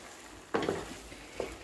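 Garam masala is stirred into a softened carrot dish frying in a pan: quiet background sizzle broken by two brief, close scraping strokes of a spoon.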